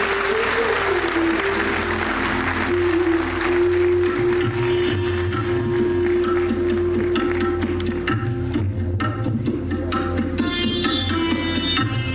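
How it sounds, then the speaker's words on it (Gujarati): An audience at a ceremony where the Chief Minister inaugurates development works in Bhavnagar claps continuously for several seconds, loud and sustained over a steady humming tone, thinning into scattered claps toward the end. "આવો આપણે તાળીઓના નાદથી આ ક્ષણને વધાવીએ"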